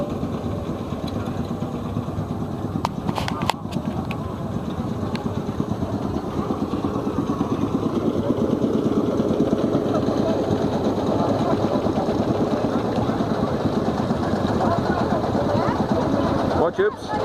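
Allis Chalmers ED40 tractor fitted with a V8 305 engine, running with a steady close mechanical drone that swells in revs midway and holds loud before dropping off at the end.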